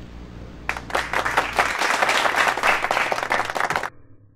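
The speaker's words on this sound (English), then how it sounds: "The normally reserved Augusta crowd going wild." A golf gallery at Augusta bursts into dense clapping and cheering, loud and close, lasting about three seconds before cutting off sharply.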